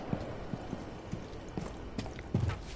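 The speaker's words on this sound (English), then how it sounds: "I got horses in the back." Horse hooves clip-clop in a video game, several quiet, irregular thuds near the listener with no speech over them.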